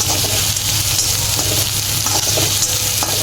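Onion and green chillies sautéing in a pan, a loud, continuous close sizzle with soft rhythmic scraping of stirring running throughout, no voices.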